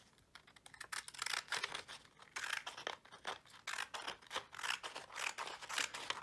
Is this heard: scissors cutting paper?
yes